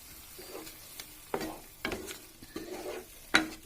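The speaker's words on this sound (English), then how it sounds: "Give it a quick stir." Tomato puree is stirred into an onion and masala mixture in a pan for lauki kofta curry, giving a few soft, spaced scrapes and gentle sizzling bursts, fairly quiet and close.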